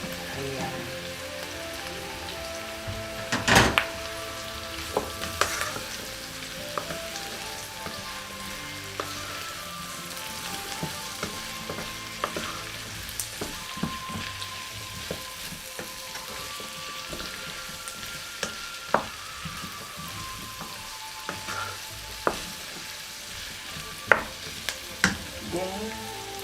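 Potato and carrot sautéing in a pan, a steady close frying sizzle with scattered stirring clicks and scrapes running throughout, no voices.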